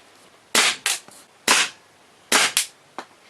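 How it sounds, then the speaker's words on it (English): An airsoft gun firing BBs at compact film cameras, sharp close snapping shots in pairs with short gaps and a fainter tap of BBs striking, no voices. "I'm going to be shooting the cameras."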